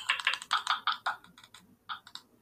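Quick bursts of clicking on a computer keyboard, close and fairly quiet, with brief pauses between runs of keystrokes.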